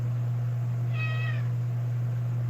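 A cat gives one short, clear meow close by, standing out over a steady low electrical hum, with no talk around it.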